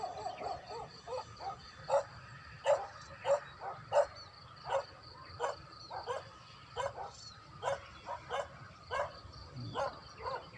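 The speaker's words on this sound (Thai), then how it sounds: "น้องหมาดันเห่าอีก" A dog barks repeatedly outdoors at sunrise, rhythmic clusters of moderately distant barks and yips with brief pauses between them in the quiet morning air.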